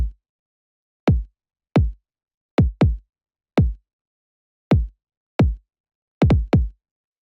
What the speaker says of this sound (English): The first sound I have here is this kick